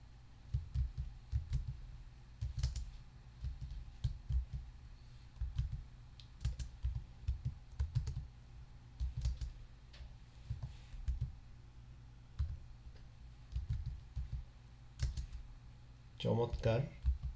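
Computer keyboard keys tapped in irregular bursts of close, soft clicks while typing a title, with a brief louder clatter near the end.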